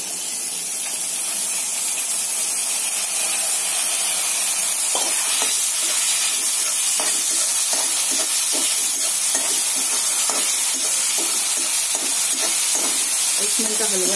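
Soaked chana dal tipped into a hot frying pan with turmeric and salt for cabbage bhaji sizzles steadily, with scattered stirring scrapes and clatters growing more frequent toward the end.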